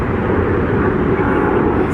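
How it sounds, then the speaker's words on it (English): Continuous broadband roar of airplanes flying overhead, steady and loud throughout with no break or talk. "so many airplanes"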